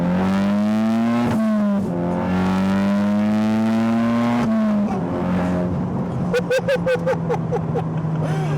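A modified Audi S1 with a larger turbo and other performance mods revs hard and accelerates close by, its engine note climbing through gears with brief shift dips and sharp pops near the end.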